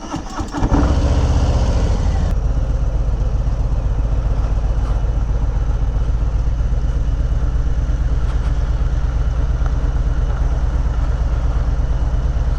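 A 2019 Harley-Davidson Low Rider fitted with new handlebars fires up with a brief starter burst, then settles into a loud, steady, close-miked rumble of deep, even engine pulses that runs throughout.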